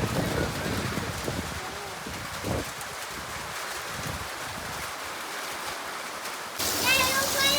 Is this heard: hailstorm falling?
yes